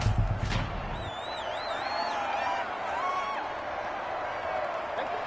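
A stadium crowd in a Madden football video game at a Buccaneers-Panthers home game gives off a steady, loud roar with whistles and whoops rising above it, under a commentator's voice.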